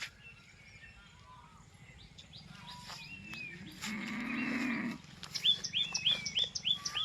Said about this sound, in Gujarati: ગાય બોલાવે છે ને